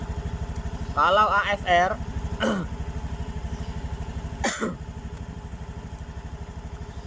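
Motorcycle engine idling steadily with a rhythmic low putter throughout, briefly revved a few times, while someone talks over it.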